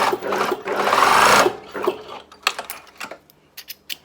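Sewing machine stitching linen for embroidery, running in one close steady whirring burst, then stopping, followed by a few faint clicks and handling sounds.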